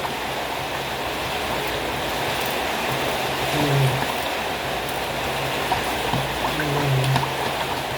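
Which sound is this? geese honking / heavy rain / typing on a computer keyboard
heavy rain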